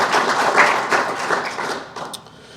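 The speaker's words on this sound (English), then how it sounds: "let's give them a round of applause" Applause from an audience at an economic development press conference in Seneca County, a short burst of clapping heard close and fairly loud, thinning out over a couple of seconds.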